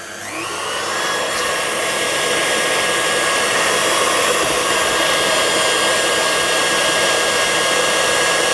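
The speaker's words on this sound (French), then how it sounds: "je vais rajouter dans mon batteur, dans ma cuve, petit à petit, tout en mélangeant" A stand mixer whipping pastry cream for a mille-feuille, its motor spinning up within the first second and then holding a loud, steady high whir with a constant whine and no pauses.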